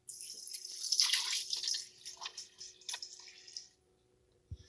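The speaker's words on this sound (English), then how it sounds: "So we're going to pour this in." Beef broth poured from a carton into an Instant Pot, a steady splashing liquid pour lasting about three seconds, close and fairly loud, then tapering off with a small clunk at the end.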